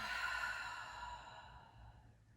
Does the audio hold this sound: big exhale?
yes